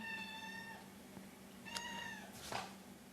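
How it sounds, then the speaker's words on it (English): A pet cat named Tobias, just awake from a nap, meows twice in clear, harmonic-rich calls close by, then lets out a shorter, brighter cry near the end. "Cat needs some food"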